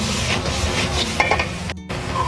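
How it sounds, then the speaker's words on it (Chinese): Pork ribs are stir-fried in a wok with dried chillies, Sichuan peppercorns, soy sauce and rice wine, giving a loud, close hiss of sizzling oil with brief scraping tosses of the spatula. "给它翻炒均匀"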